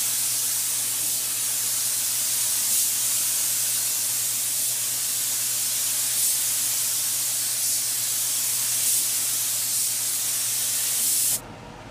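A spray gun at raised air pressure lays paint onto a cafe racer motorcycle. It makes a loud, continuous hiss that carries steadily, then cuts off abruptly just before the end.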